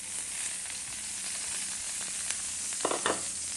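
Hot reheated cooking oil frying in a pan, giving a dense, continuous close hiss and sizzle with a few brief crackling bursts near the end and no talking.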